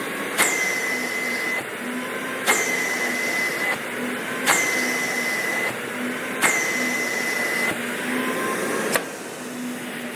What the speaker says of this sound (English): We'll open our flap a minimum of 4 times to clear out any debris in the filter, like so.